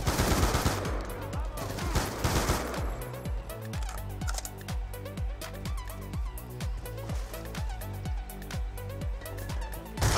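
Call of Duty gunfire during a 2v2 match: rapid repeated shots in quick bursts, loud and close, punctuated by sharp mechanical clicks, with no talking.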